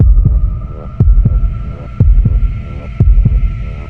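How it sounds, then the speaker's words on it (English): Slow, heavy heartbeats thump in a steady rhythm, about one double beat per second, loud and booming over a low hum. "the heart beat again, slow, heavy, and echoing unnaturally loud"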